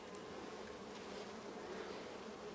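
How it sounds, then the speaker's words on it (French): Honeybees hum around an open hive during a spring inspection, a steady, even drone of many insects close by with no voices over it. "Il y a pas mal d'abeilles ici"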